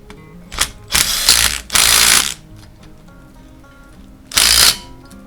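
A hand ratchet snugs bolts on a log loader rotator valve clamped in a vise, with four short bursts of rapid clicking separated by quiet pauses, close and loud, and no speech.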